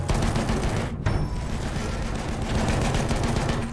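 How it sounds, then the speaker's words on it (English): Rapid machine gun fire in Battlefield 1 hammers away in close, loud dense bursts over a heavy low battlefield rumble, with one brief gap before the shooting resumes. "There's a machine gun."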